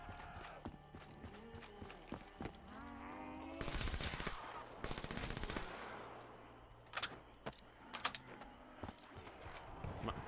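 Gunfire in Call of Duty Zombies on the Zetsubo no Shima map: scattered sharp shots and dense bursts in the middle of the clip amid game sounds and music, fairly quiet overall, with no talking.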